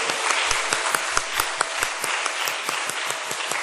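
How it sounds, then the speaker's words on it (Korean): Church congregation at a Wednesday evening worship service clapping in applause, a dense patter of many hands with sharper individual claps standing out, steady and fairly close throughout. "11학년 위해서 당연히 박수해야죠"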